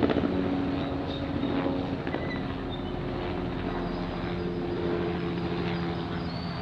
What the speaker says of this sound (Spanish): Y ya está el helicóptero en el barrio del Cortijo